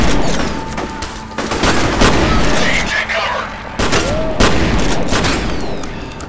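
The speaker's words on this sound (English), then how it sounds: "I'm shooting the damn wall like it was a dude." Gunfire from the first-person shooter video game F.E.A.R. comes in loud, sharp bursts and repeated shots, with heavy booming impacts spread across several seconds of combat.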